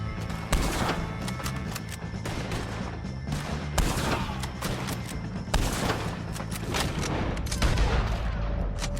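Gunfire in a Red Dead Redemption 2 shootout against O'Driscoll gang members, with a rapid irregular fusillade of nearby rifle and pistol shots cracking over loud game ambience.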